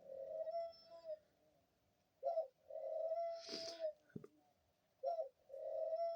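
A dove on someone's hand coos close by in repeated low, hollow phrases separated by short pauses, with a brief rustle of movement midway.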